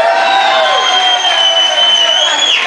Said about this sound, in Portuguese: Vem um grande aplauso para o nosso José Serra!